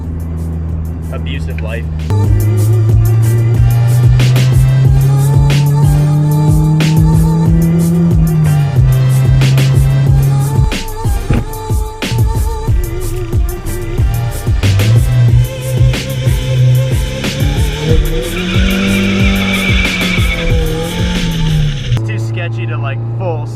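A turbocharged Nissan 240SX S13 with a KA engine pulls away and revs hard through the gears, a loud, close engine note rising and falling with gear changes, while people talk over it.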